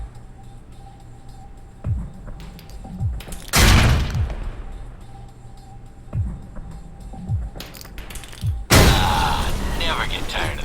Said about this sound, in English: Try and chuck one beneath the truck and take out the gas tank.